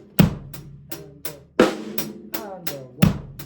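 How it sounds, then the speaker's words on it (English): A beginner drum kit pattern with bass drum on beats one and three under sharp snare hits, a steady moderate rhythm of distinct strikes close and loud, with no talking. "Now we want to add the bass drum on beats 1 and beats 3."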